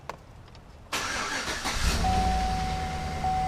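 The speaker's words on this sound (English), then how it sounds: "Got a blinking engine lights on it. Run very rough." A 2008 Chevrolet Suburban with a cylinder 4 misfire and a blinking engine light starts up after a quiet moment, then idles roughly with a steady, close, continuous engine drone.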